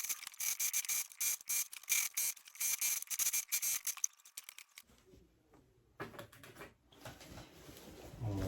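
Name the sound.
sewing machine stitching trouser seam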